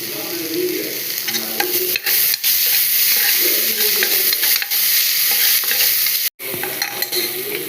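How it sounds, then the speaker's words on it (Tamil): Onions fry with crushed ginger and garlic for a mushroom curry, sizzling steadily in a pan while a spoon stirs and scrapes throughout, loud and close with one brief break near the end. "வெங்காயம் நல்லா வதங்கிடுச்சு இந்த சைட்டில் வந்து இஞ்சி பூண்டு தட்டி வச்சுருக்கேன் அதை உள்ளே சேர்த்துடுறேன்"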